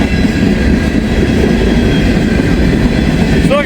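A loud train rolls close by over a freshly ground rail weld, a continuous heavy rumble of wheels on track ending in a brief high squeal.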